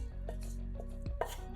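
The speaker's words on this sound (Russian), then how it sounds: "Мелко нарезаем пучок укропа." A bunch of dill is chopped finely with a knife on a board, giving a few quick, crisp cuts against a low background hum, close and alone.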